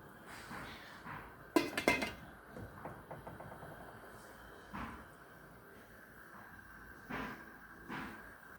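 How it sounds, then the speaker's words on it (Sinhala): Pasta goes into a pot and is stirred before a lid closes over it, heard as a cluster of sharp metallic clanks followed by scattered softer knocks and scrapes against a quiet kitchen background. "පැස්ටා ටික දාගෙන ටිකක් කලවම් කරලා මම මේක මෙහෙමම තැම්බෙන්න තියනවා භාජනය වහලා."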